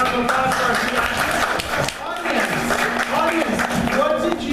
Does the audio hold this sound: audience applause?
yes